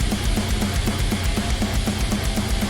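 Music squashed hard by an OTT multiband compressor set to full 100% mix, dense and loud throughout, with a steady pulsing beat and bright, crushed highs and pumping lows, no voices.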